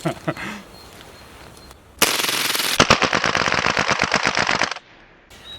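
A modified double-stack 1911 airsoft pistol with a short stroke kit fires a very fast, loud burst of sharp cracks, close and continuous for nearly three seconds, followed by fainter clicks.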